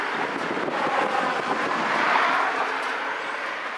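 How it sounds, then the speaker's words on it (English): Wind blows across a microphone outdoors at a motorcycle meetup, a steady broadband rush and buffeting that swells slightly midway and runs continuously for the whole stretch with no voices. "now the wind's coming up"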